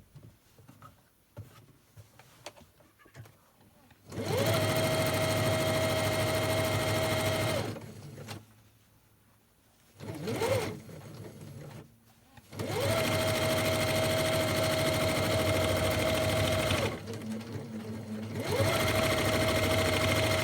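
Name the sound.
sewing machine stitching the edge of a fabric lunch bag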